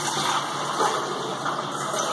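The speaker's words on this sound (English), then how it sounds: "I'm just going to pour this through the strainer." Cold-brew coffee poured through a strainer, a continuous liquid gush and trickle lasting a couple of seconds, close and loud with no talking.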